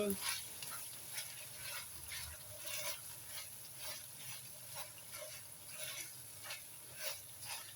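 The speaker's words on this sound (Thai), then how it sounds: "เราผัดเพื่อเพิ่มให้มันมีความหอมจ้ะ" Thai chili paste (jaew bong) being stir-fried in a pan over lowered heat, with soft repeated scraping strokes of a spatula over a faint, steady sizzle, moderately near and quiet.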